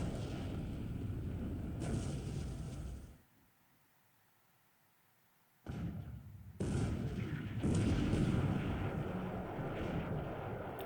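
Naval 5-inch gun barrage in the War in the Pacific: Admiral's Edition strategy game, with heavy rumbling blasts that stop for a few seconds of near silence, then return louder and sustained.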